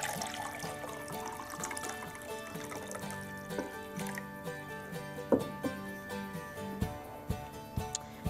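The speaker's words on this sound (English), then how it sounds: "Now we're going to add the brine solution to the vegetable mixture" Salt brine made with non-chlorinated water pours into a jar of escabeche vegetables, a steady trickling liquid stream with small gurgles and a few soft clinks near the end.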